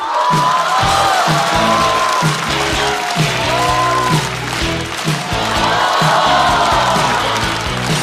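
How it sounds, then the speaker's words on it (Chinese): A stand-up comedy audience applauds and cheers to welcome a comedian to the stage, a loud, sustained wave of clapping mixed with whoops and shouts. "掌声欢迎 Harry！"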